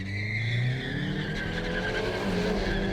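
A 2021 Hyundai i30 N with dual-clutch gearbox launches hard from about 2500 rpm, engine roaring loud and close as the tyres spin and squeal continuously, with the note rising through the gears.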